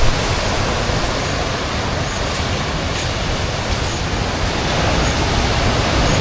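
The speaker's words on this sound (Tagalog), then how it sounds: "Isang alon." Ocean waves at Patar Beach in Bolinao, Pangasinan, make a steady, loud, hissing roar with a slight swell toward the end and no voices.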